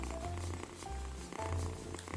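A baby kitten purrs close to the microphone, a soft rhythmic rumbling in repeated breath cycles, quiet and alone.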